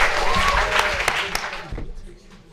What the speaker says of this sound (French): on applaudit Jacques Poitrinal.